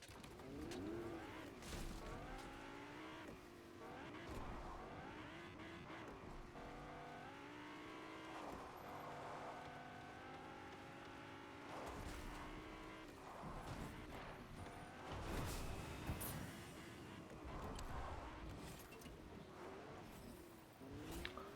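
Fortnite car driving with a blown tyre, a steady droning engine with shifting pitch sweeps and bumpy rolling noise running throughout, with a few louder surges near the end.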